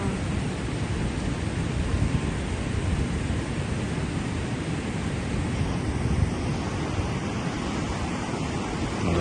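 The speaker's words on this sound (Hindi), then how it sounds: "ये ऊपर से ग्लेशियर का पानी आ रहा है" Glacier meltwater rushing down a mountainside in Kashmir, a steady, loud, broadband roar of flowing water that stays constant throughout, with no voices.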